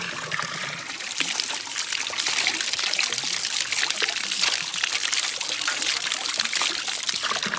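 Cold water trickling and flowing from an outdoor source, a continuous close splashing babble that swells slightly after the first second and stays steady.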